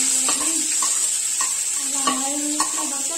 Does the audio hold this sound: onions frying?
yes